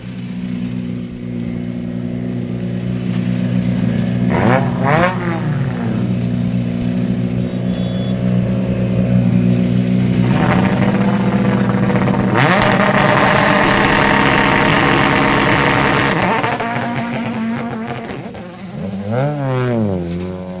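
Modern four-wheel drive rally car idling loudly at a Scottish Championship stage start line, then launching hard with rising revs, a sustained roaring burst and gear changes, before easing off and revving again near the end.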